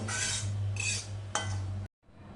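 Poha chivda spice tempering stirred in a pan with the gas turned off: a close, steady scraping and clinking of a spoon against metal for under two seconds, with a low hum beneath, ending abruptly.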